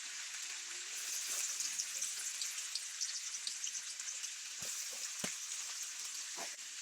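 Pieces of sonali chicken sizzle steadily with spices in a hot pan, a soft continuous frying hiss broken by a few sharp pops and the clink of stirring.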